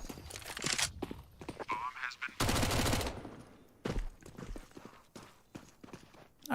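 Rapid bursts of SMG and pistol fire in a Counter-Strike match on Dust 2, sharp cracks in quick clusters with a dense sustained burst midway, mixed with footstep-like clatter.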